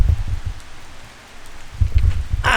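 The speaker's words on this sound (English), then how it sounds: "As you can tell, the rain has picked back up." Rain falls steadily outside a rowing club, a soft continuous hiss with low gusty rumbles swelling and fading. A brighter, sharper spatter arrives right at the end.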